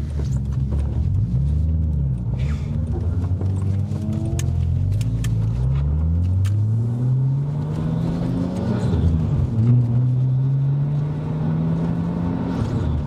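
A Nissan Skyline R33 GTS25T Spec 1 with 250 horsepower drives along, its engine droning loudly from inside the car and rising and falling through repeated gear changes.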